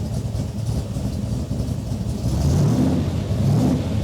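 A Shelby Cobra engine runs in a steady, close low rumble at idle, swelling a little louder and rougher about halfway through, with no talking.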